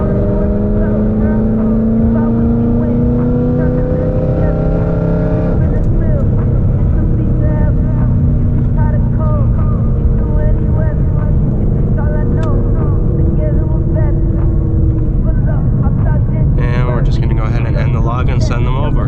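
A car engine running on E85 fuel revs smoothly upward toward 4,000 RPM, a steady loud drone with rising harmonic tones that holds throughout.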